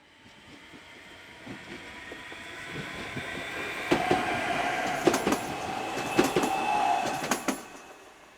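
A passenger train unit rolls past on rails in Slovenia, rumble building to a close pass with rhythmic clicks of wheels over joints and a faint squeal.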